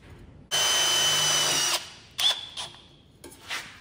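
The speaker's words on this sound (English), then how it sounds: "I'm just gonna throw these self-tappers in about maybe midway up the collar here." A power drill drives self-tapping screws into a metal collar on a wheel dolly: one loud, steady whirring run of about a second, then a few shorter bursts and small rattles, close by with no talk.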